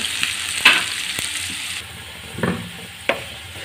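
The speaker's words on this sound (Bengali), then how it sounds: "এখন এগুলো আমি লাল লাল করে ভেজে নেব।" Chopped onions sizzle in hot oil in a pan while cooking lentils, a bright steady frying hiss broken by a few sharp stirring scrapes and clatters, close and alone.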